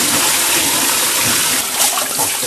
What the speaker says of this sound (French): Bien brosser la tête.